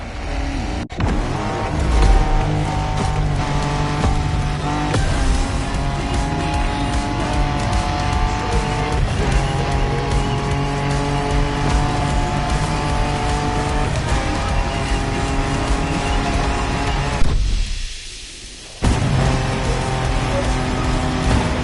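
An off-road race car in The Crew Motorfest, its engine droning steadily at high revs under a layer of music, with a brief drop near the end before the roar returns.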